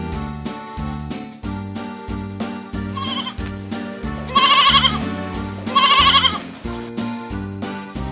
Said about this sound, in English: The sheep says baa, baa, baa, baa, baa, baa.